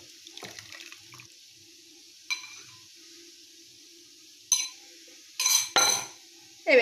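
Water poured from a jug into a pot of stuffed peppers, with scattered splashing bursts and a few clinks of a kitchen pot, close and fairly quiet, no talking.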